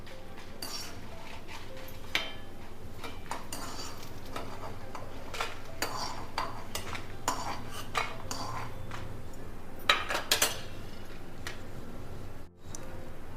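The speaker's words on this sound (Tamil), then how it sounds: "அதுக்கப்புறம் அடுத்தது பருப்பெல்லாம் வறுத்துக்கலாம்" Lentils, including chana dal, are roasted in oil in a pan while a spatula scrapes and taps against the metal. Scattered quiet clinks and rustles come over a faint steady background.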